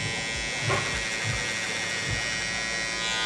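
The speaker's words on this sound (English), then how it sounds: "This size where I'm gonna come in with a clipper over comb." An electric hair clipper buzzes steadily at close range during a clipper-over-comb cut on straight, coarse hair, with a few brief scraping bumps as it passes through the hair.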